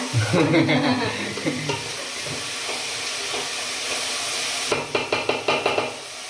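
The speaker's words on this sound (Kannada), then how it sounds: "ಆಮೇಲೆ ಈರುಳ್ಳಿ ಹಾಕೊಂಡು ಫ್ರೈ ಮಾಡ್ಕೊಳ್ಳಿ." Onions frying in a pan with green chillies and curry leaves for raw-tamarind chitranna rice: a loud, steady sizzle runs throughout, with a quick run of sharp spoon knocks against the pan near the end.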